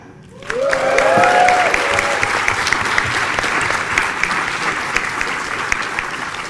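An audience at the Formula Student 2024 business plan presentation finals applauds and cheers for competing university teams. Dense clapping starts suddenly and holds steady and loud to the end.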